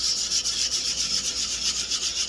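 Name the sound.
sanding Baltic birch wood with 220 grit sandpaper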